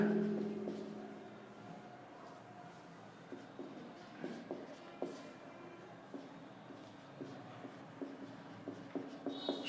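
Chalk or marker scratches across a classroom board in short, repeated strokes, close and fairly soft, with small pauses between words being written and no one speaking.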